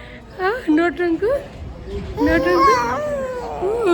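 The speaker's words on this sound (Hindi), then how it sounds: "ये किसका बच्चा रो रहा है?" A young child cries and wails near Salasar Dham temple, with rising and falling sobs, while someone talks close by over the crying.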